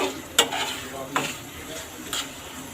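Shrimp with garam masala being stirred in a frying pan for a curry, a soft steady sizzle with three sharp scrapes of a spatula against the pan, close and fairly quiet.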